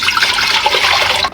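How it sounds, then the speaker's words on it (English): Water pouring steadily into a pressure cooker for hominy corn porridge, a loud continuous splashing rush close by that cuts off abruptly at the end. "Add in some water,"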